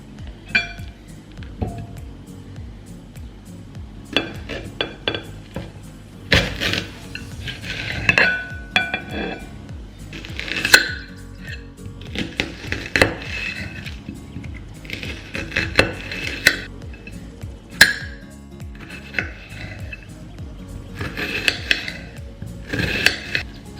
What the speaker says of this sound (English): I need my onion chopped up, I need slices of lemon, and I need my tomatoes chopped up as well